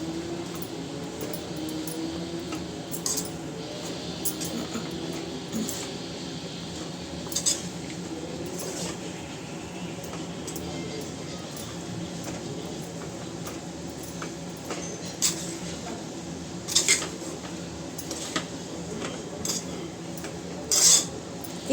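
A utensil scrapes and clinks against a pot while amaranth leaf curry is stirred and mixed, with steady soft scraping and occasional sharper metallic taps over a long stretch.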